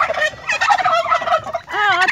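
Loud, close gobbling from a white turkey in repeated warbling bursts, with a rapid rattling gobble near the end; no talking.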